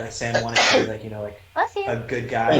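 One short, abrupt sneeze bursts out between stretches of a person talking casually at a tabletop role-playing session.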